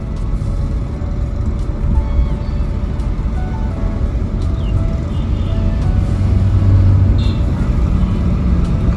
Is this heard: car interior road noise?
yes